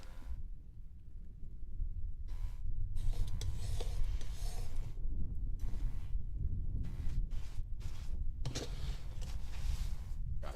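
A palette knife scrapes and rubs oil paint across a wooden panel in steady, close rasping strokes that run almost continuously, with a few brief pauses.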